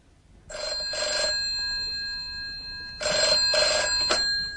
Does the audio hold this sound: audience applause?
no